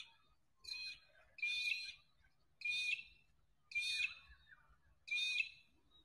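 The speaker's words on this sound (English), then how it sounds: "I can hear magpies." Magpies call at Wentworth Falls Lake in the early morning, giving five evenly spaced bursts of loud, warbling, carolling calls with near-silence between each.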